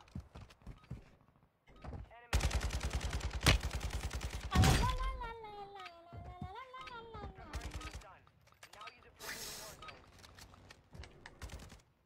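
Bursts of video game gunfire crackle in a dense volley for a couple of seconds, then give way to lighter scattered shots, with people talking and exclaiming over it.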